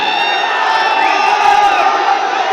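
A crowd at a Kannada film event cheering and shouting, a dense continuous roar of many voices with whoops rising over it, loud and close, with no clear applause standing out.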